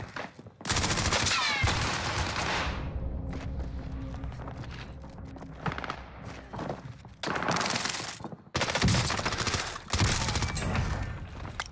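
Shotgun fire in the video game Rebirth Island, loud repeated blasts in close succession across a firefight, with brief pauses and a few footsteps between bursts.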